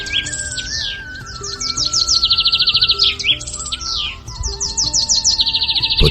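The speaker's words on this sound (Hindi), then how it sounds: "मैं तुझे मेरी ये चिड़िया देना चाहता हूं।" A small bird, presented as a special gift bird, chirps and tweets in quick repeated bursts of bright trills, fairly close and loud, with a steady tonal hum and faint background sounds underneath.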